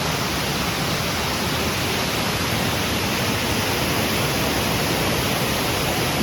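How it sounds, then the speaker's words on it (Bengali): Elephant Falls in Meghalaya roars as a dense, even wash of falling water, loud and steady from start to end with no pauses or other sounds. "আওয়াজ শুনতে পাচ্ছি এরকম ঝর্ণার আওয়াজ।"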